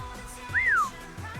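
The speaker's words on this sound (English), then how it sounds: "I probably shouldn't whistle directly into the mic." A person whistles close into a microphone, a single short rising-then-falling note standing out over low room noise.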